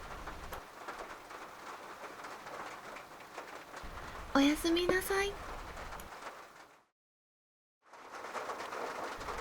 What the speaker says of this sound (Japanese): 夜、なかなか雨が本降りで何度か目が覚めましたが、雨の音を聞きながらゆっくり夜を楽しむことができました。